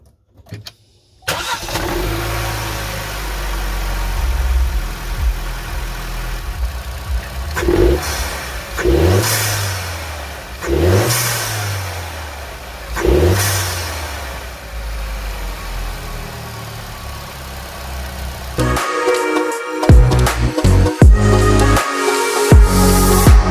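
A car engine fitted with an induction kit and silicone hose starts up and idles, then gets several sharp, rising revs in a row, with a louder rumbling passage near the end.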